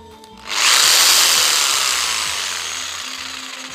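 A German-made electric jigsaw starts abruptly and runs at a set speed, a loud steady whine with a rapid buzzing stroke that slowly fades in level after startup.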